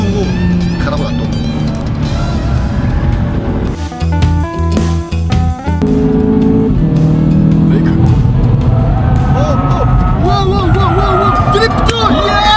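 Car drifting on a racetrack during a grip-driving session, its engine loud and continuous with rising and falling tones and tire noise, while people talk and shout excitedly over it.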